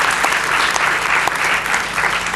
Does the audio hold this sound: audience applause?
yes